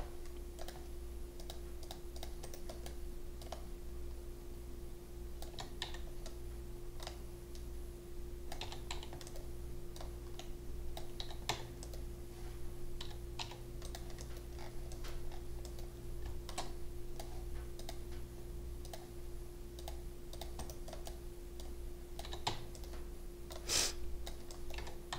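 Computer keyboard keys and mouse clicks tapping in quick irregular bursts over a steady low electrical hum, fairly quiet and close, no talking.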